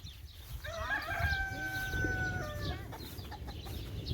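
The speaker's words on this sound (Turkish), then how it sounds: "Burada da tavuklarımız, horozlarımız var" On a chicken farm, a rooster crows loudly and close, a drawn-out call, while hens cluck and murmur in the background.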